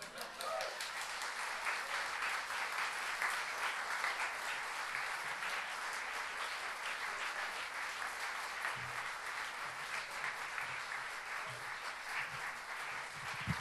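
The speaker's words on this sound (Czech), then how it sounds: "velký potlesk tady" An audience applauds after a stage performance, a dense and steady wash of clapping that holds evenly from start to finish, with faint voices beneath it.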